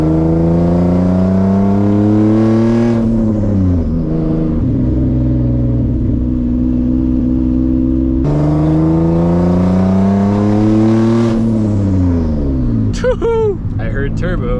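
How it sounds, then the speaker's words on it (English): A turbocharged Nissan 350z engine revs hard under boost, rising to a loud sustained pitch, dropping off, then climbing again, with turbo whistle and flutter at the end and a voice briefly over it. "I heard turbo."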